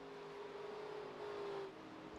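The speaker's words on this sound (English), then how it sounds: "As you see another car up ahead." Race car engine in the iRacing video game, a 1987 NASCAR stock car at Pocono Raceway, holding a steady droning tone that swells briefly louder, as if nearing another car, then settles back.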